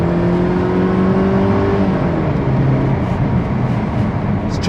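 A Mercedes SLK 200 engine accelerates hard, its loud rising tone dropping at a gear change midway before climbing again.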